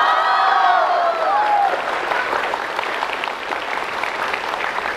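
Applause from a theatre audience at a Chinese crosstalk comedy show, dense and sustained clapping with faint cheering, steady throughout with a voice briefly over it at the start.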